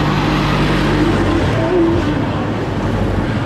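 A tour bus rumbles past on a village street in Pekalongan, Indonesia, its engine a loud, steady low drone close by throughout.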